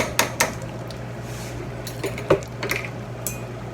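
A spoon scrapes and knocks against a pot of cherry jam, irregular light clinks and taps over a steady low hum, fairly close and quiet.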